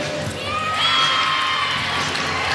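A packed home crowd cheers and whoops through a college gymnastics meet during a final beam routine, a dense, steady roar of voices with high shrieks, swelling slightly midway and holding loud throughout.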